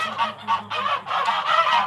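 A large male Emden goose honks loudly and close by, repeating harsh nasal calls in quick succession, with no other sounds over them.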